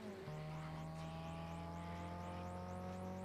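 A Chevy engine fitted with a free-flow exhaust in the racing game Gran Turismo 6 drones steadily at high revs, with a sustained tone and repeated rising gear-change sweeps, loud and close with no talk.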